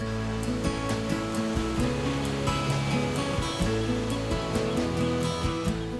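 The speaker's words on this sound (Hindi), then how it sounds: "सुकून देती समुद्र की लहरें" Sea waves washing ashore on the coast of Mauritius, a steady continuous roar of surf with rolling swells and no voices, loud and close throughout.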